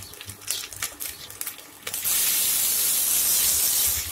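Chopped tomatoes dropped into a hot pan of onions with ginger-garlic paste, a few light clinks and stirring taps followed by a sudden loud, steady sizzling hiss close up.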